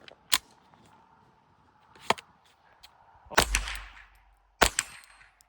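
A Ruger 10/22 rimfire rifle fitted with a muzzle brake fires three sharp, loud cracks spaced a second or more apart outdoors, each with a short echoing tail, plus a fainter click near the start.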